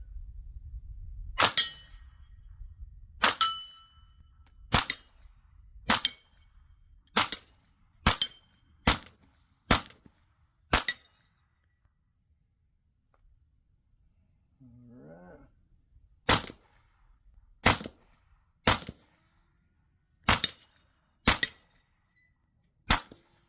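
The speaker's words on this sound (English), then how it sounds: "You guys can hear these cans and see these guns. First, CZ Scorpion." CZ Scorpion firing subsonic 9mm handloads at steel targets, sharp suppressed-sounding cracks, each with a bright metallic ring, in an uneven string of eleven, a pause, then six more shots.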